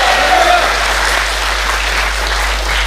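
A church congregation bursts into sustained applause and cheering during a worship service, a dense, steady roar of clapping and voices that carries evenly from start to finish.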